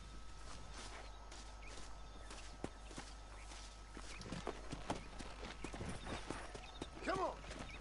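Horse hooves clip-clop in the Red Dead Redemption video game, a faint, irregular series of soft hoof falls under low ambient noise, with a short whinny-like call near the end.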